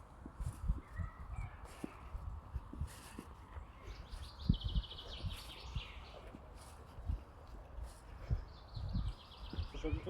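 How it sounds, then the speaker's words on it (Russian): Birds sing in a forest around a picnic campfire near Moscow, with high, repeated trilling phrases drifting in from a distance under close footsteps and people talking. "Ах, не, птички поют."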